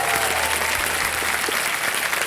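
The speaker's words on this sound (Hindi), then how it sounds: "तालियां बज जाएं।" Loud, dense studio audience applause on a television quiz show, a steady continuous roar of clapping heard alone.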